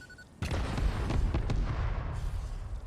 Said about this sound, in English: I like any excuse to use fireworks.